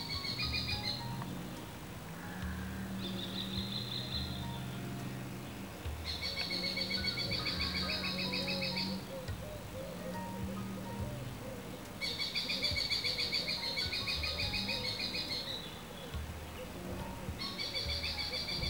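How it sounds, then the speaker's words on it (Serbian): Forest birds sing in repeated bright, trilling phrases that come and go over a low, steady hum of insects and ambient rustle, fairly faint and distant. "Ptica."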